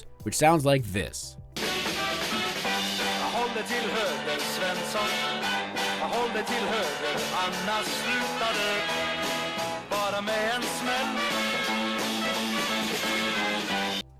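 Swedish pop song plays loud and steady, a full band with melodic vocals, after a brief spoken line at the very start.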